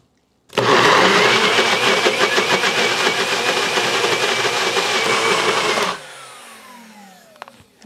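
A countertop blender whirs loudly and steadily for about five seconds, mixing a protein shake with milk, then cuts off abruptly and spins down, leaving faint clinks in the quiet.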